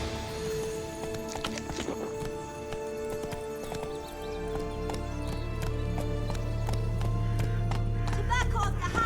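Hooves of the horse Roach clip-clop at a gallop in The Witcher 3: Blood and Wine, a steady rhythmic beat that quickens toward the end, with a whinny and game music layered over it.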